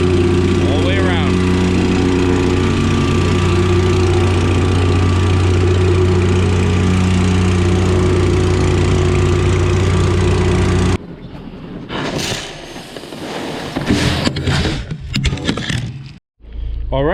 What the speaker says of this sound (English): Get her compacted all the way around.